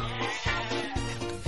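A goat bleats loudly and steadily at close range, in three harsh wavering pulses with no pauses between them.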